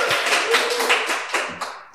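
A small audience applauds to welcome a guest at a talk-show style event, with a short burst of close, crisp handclaps that fades out within two seconds.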